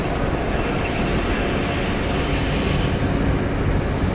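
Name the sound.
Delta Airlines Boeing 737-900ER landing at Atlanta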